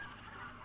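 Chickens cluck in the video game Hunt: Showdown, a short, steady, fairly faint burst of squawky fowl calls with no talk over it.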